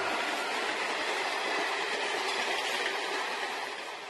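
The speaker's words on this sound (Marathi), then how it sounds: "आता ट्रेन गेली. अख्खी ट्रेन गेली." A train rolls past nearby in one continuous loud, broadband rumble and rush that holds steady throughout and eases slightly at the very end.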